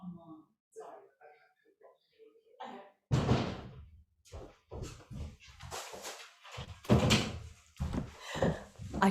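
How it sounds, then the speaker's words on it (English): A landlord knocks on a house door, a loud burst of sharp thumps and rattles that cuts in after quiet, surrounded by further knocks and nearby talking. "my landlord is about to knock on the door."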